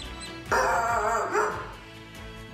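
A small dog gives a loud yipping bark followed by whimpering and a fainter second yelp, close to the microphone with no talking, alongside a news segment about pets.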